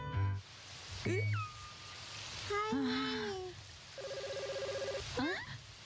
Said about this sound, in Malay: Ada orang telefon lah.